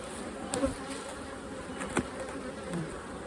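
Honeybees drone around an open hive in overcast weather, a soft continuous buzz with a few louder individual bees passing close by.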